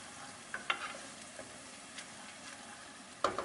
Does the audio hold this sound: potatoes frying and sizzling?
yes